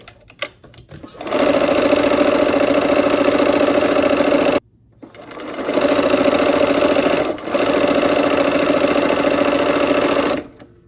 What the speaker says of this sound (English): then just go ahead and sew the last seam